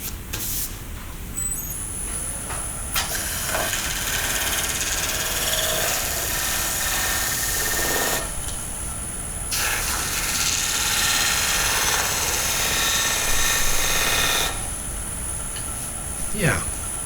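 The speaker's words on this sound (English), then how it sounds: "this one I'm just using the coarse grit to begin with, just to sand that" Coarse-grit abrasive rubs against a spinning square-edged wooden bowl on a woodturning lathe, giving long stretches of loud, hissing friction that stop and restart in separate bursts over the motor's steady hum.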